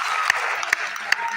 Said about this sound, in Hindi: अरे इनके लिए ताली होनी चाहिए यार।